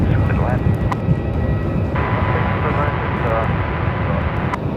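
A passenger airliner on short final for landing at Melbourne Airport gives off a loud, steady engine roar with a faint whine, while people talk over it throughout.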